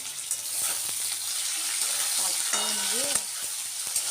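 Potato, pumpkin, eggplant and carrot frying in hot oil, a steady soft sizzle with occasional stirring scrapes, faint and continuous, with brief background sounds but no clear talk.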